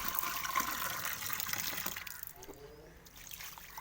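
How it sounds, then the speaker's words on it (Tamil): Water is poured out of and refilled into an algae-coated container used for a money plant, splashing and trickling close by before easing into a softer, thinner stream. "இதெல்லாம் ஊற்றிட்டு இன்னொரு டைம் தண்ணி பிடிச்சி கொஞ்சமாக தண்ணி பிடிச்சிக்கலாம்."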